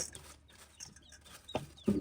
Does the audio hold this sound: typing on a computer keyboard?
no